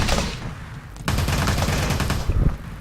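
Rapid heavy-rifle fire aimed at zombies in the top-down video game Teleglitch, a dense run of close, loud shots that briefly eases, then resumes in a steady stream.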